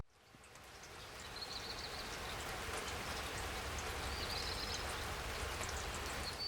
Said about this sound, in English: It is lashing rain in here in Fisterra